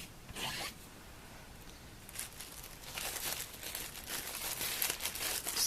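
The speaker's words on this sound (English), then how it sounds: "I'm going to clean my stamps quickly." Rubber stamps being wiped clean with a chamois give quiet, close scratchy rubbing and brushing strokes that come in short bursts, then build into more continuous scrubbing toward the end.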